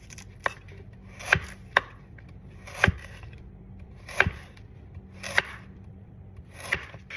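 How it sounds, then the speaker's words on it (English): Bullnose carving knife slicing through meat on a board, six or so sharp separate cutting strokes spaced about a second apart, close and fairly crisp over a quiet background. "The beauty of this knife is that it can easily cut through like stubborn fatty parts of the meat"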